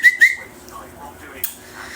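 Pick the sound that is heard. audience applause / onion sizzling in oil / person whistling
person whistling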